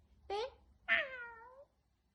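A voice imitates a cat's meow twice, up close: a short mew followed by a longer, drawn-out meow that slides downward.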